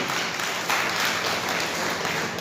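A church congregation at a Sunday service claps together in dense, continuous applause that fills the room, loud and unbroken with no speech over it.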